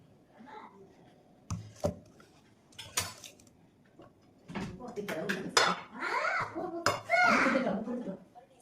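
Sweet salad is spooned from one dish onto a plate with scattered clinks of cutlery against dishware, partly under children talking nearby.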